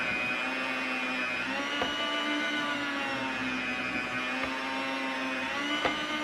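Electric meat slicer whirring as it cuts maple buckboard bacon, a steady high motor whine with faint periodic clicks as each slice comes off.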